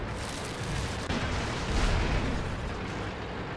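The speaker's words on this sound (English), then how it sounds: "we're unable to avoid the second shell" A tank shell strikes in World of Tanks, playing a Bat.-Châtillon 25 t: a low, muffled impact thud rising out of steady battle rumble, fairly distant and subdued, with no speech.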